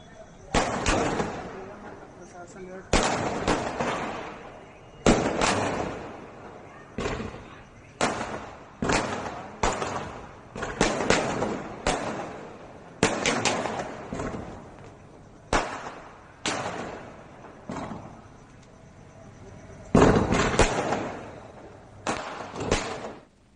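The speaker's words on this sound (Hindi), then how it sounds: "मुख्तार की मौत के बाद कृष्णानंद के घर पर आतिशबाजी हुई है।" Fireworks going off outside a house in Uttar Pradesh: a long series of sharp, loud bangs and crackling bursts arriving in irregular clusters, some close together and some spaced apart, with faint voices between them.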